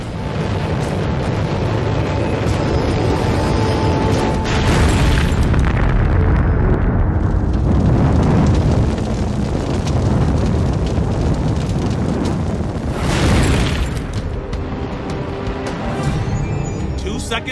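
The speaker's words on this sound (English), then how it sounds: "Seconds after liftoff, the Atlas Centaur collapses back down on the pad" An Atlas-Centaur rocket (AC-5) explodes on the launch pad seconds after liftoff, giving a long, loud rumbling roar with heavy booming surges that swell and fade over many seconds.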